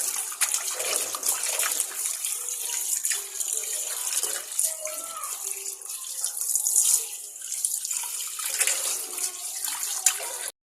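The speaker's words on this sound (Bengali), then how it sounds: "এরপরে হলুদ দিয়ে ভালো করে ধুয়ে নিচ্ছি" Fish is washed under running water with salt and turmeric in a home kitchen: a steady tap stream splashes continuously over the fish, with small bursts of splashing and handling noise. No one speaks.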